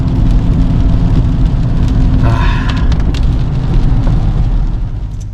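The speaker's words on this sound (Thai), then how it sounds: "ฝนตก ฝนตกตลอดทางเลย" Steady rain noise with a constant low engine rumble from inside a moving car, continuous throughout with no talking.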